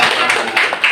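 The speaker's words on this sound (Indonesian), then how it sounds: "Tepuk tangan untuk kita semua atas kehadiran kita." Students in an Indonesian school classroom clap their hands together in a brief, dense burst of applause, loud and close, with a few sharper individual claps standing out.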